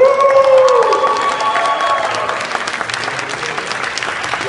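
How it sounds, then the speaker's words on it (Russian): Loud audience applause fills a hall after an Avtoradio Kazakhstan radio holiday show performance, dense steady clapping from many hands with a faint musical tone fading in the first seconds. "Оглушительные аплодисменты."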